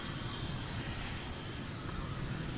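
Boeing Dreamliner jet airliner at Dallas Fort Worth International Airport, a steady broadband engine roar that holds loud and even throughout, with no voices over it.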